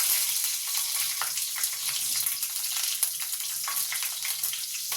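Cumin seeds and green chillies fry in hot oil for sambar, giving a steady close sizzle with scattered small crackles and pops throughout, no voices.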